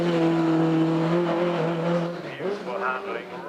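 Mark 1 Ford Escort race car with a 1800cc Crossflow engine driven hard at a hillclimb, a loud sustained engine note that dips and rises as it is worked, under a commentator's voice.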